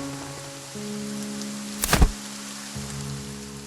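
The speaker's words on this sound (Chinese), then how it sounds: "又是雨天" Soft, steady rain from the video game Light and Night washes quietly under a sustained music bed, broken midway by one brief louder thump-like burst.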